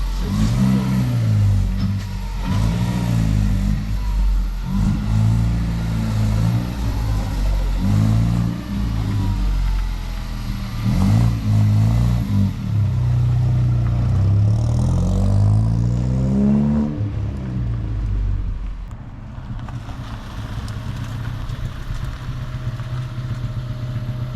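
A Ford Foxbody with an EcoBoost engine and big turbo runs close by, its loud throbbing note rising and falling through repeated revs before settling to a lower, steadier idle near the end.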